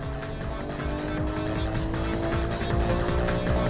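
Sports cars including a Nissan GT-R, Porsche, Mitsubishi Evo 7, Subaru Impreza and new BMW M3 race on a track, engines roaring steadily with tire squeal, loud and close throughout with no talk.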